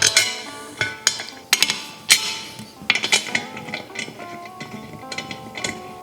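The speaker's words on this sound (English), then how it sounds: "Take our tray and just start putting in 800 bolts." Wheel bolts dropped into a tray, a series of sharp metallic clinks and clatters, irregular and close, some in quick bursts with ringing tails, no voices.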